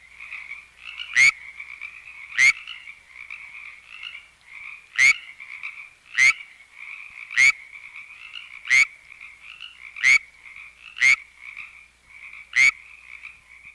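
California tree frog calling in Setanac Canyon, eastern San Diego County, with loud, sharp, evenly spaced calls about every second or so, while a Pacific tree frog keeps up a continuous raspy chorus in the background.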